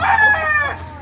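A rooster on a backyard chicken farm gives a single loud, close crow that trails off within about a second.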